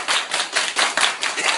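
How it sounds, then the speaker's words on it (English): A group claps hands in unison at a party, about seven loud, close, evenly spaced claps in a quick steady rhythm. "Hey, everybody clap your hands!"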